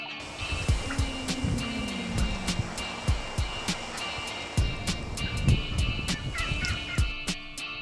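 Turkeys on a farm gobble and cluck in a busy chorus, with a steady clatter of pecking or tapping and a constant hum, close and unbroken.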